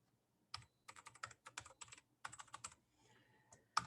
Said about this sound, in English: I'm going to type in the domain name.